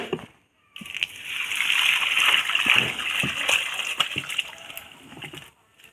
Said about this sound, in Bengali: এবার মাছের জলটা ভালো করে ছেঁকে ফেলি এখানে